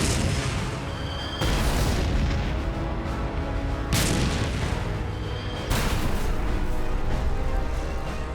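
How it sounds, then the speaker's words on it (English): A WW1 German A7V tank's main gun fires in heavy, booming blasts, three or four loud reports over a dense rumble of battlefield noise, with no talking. "The lead German tank opens fire with its main gun."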